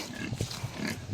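A pig grunts softly a few times, low and rough, against a faint outdoor background at a village home on a Philippine island.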